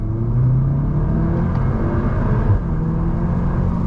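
A VW Golf R MK8 with Magna torque vectoring is floored from a pull-out, its engine droning steadily with a low rumble under the strain of hard acceleration, close and loud throughout, with no one speaking.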